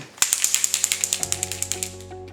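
Rapid rattling clicks from the mixing ball knocking inside a Dior Airflash spray foundation can being shaken, a steady rhythmic series of about twenty sharp ticks, close and fairly loud.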